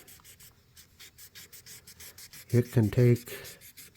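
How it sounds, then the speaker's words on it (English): Hand sanding of a knife bolster on an old orange knife, a soft repetitive rubbing scrape in steady strokes close to the microphone, with a brief burst of talking partway through. "a couple hours of sanding just to get one bolster good"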